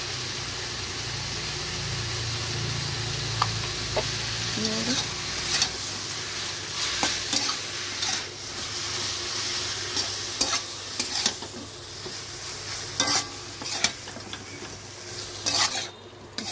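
A spoon stirs mustard, chilli and garlic paste in a pan, with a constant frying sizzle and repeated clinks and scrapes against the metal. A faint voice talks underneath.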